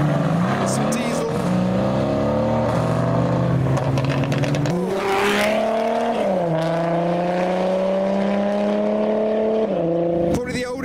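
A V8 car engine idling and running at a car show, its deep steady rumble with pitch shifts as the revs rise and settle, close and loud throughout, with people talking nearby over it.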